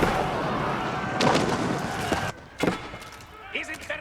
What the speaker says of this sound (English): these hand cannons, they're pretty strong